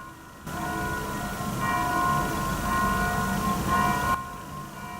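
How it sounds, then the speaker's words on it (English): Church bells ringing in the distance, a steady layered tone with sustained overtones that swells midway and fades, heard behind room ambience during a test of a budget USB desktop microphone. "you can probably hear church bells too"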